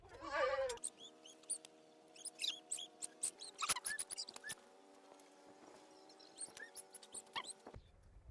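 Young goat kids bleat in quick, high, wavering calls, some overlapping, with a constant low hum beneath and scattered clicks and taps from a farm setting where a goat's feet are being treated.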